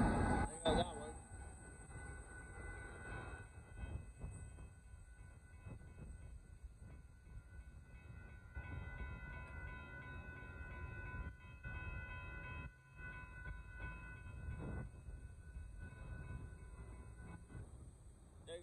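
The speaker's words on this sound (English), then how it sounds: "There goes that Union Pacific auto bus car train and more stuff coming" A northbound Union Pacific freight train carrying autoracks and boxcars rolls past at a road crossing in Austin, Texas, a steady, fairly distant rumble of wheels and cars lasting throughout.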